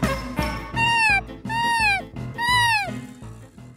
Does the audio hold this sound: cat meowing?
yes